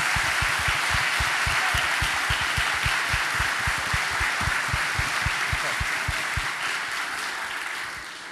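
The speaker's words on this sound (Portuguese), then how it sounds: "Então vamos dar a eles uma salva de palmas por gratidão ao trabalho." Sustained audience applause at a national congress, a dense hall-wide wash of clapping with steady rhythmic hand claps underneath, loud and continuous before tapering slightly at the end.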